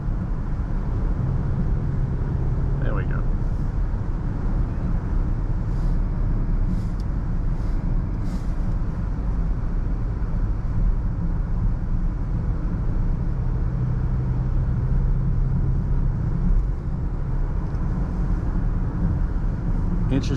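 A Jaguar E-Pace SUV accelerates and drives, a steady engine and road drone heard from inside the cabin throughout, while someone speaks briefly over it.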